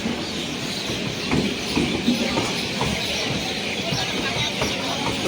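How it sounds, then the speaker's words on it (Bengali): A train arrives at a busy station, with a rumbling, rattling rush of wheels and carriages up close under crowd noise. "এই যে ট্রেন চলে এসছে"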